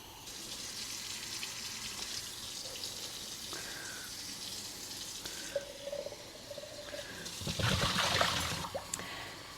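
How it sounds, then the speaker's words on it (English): Tap water runs into containers in a garden setting, a steady close hiss and trickle that shifts in pitch as the vessels fill, ending in a louder, fuller splash near the end. "So I am filling 2 containers up with water, maybe 3."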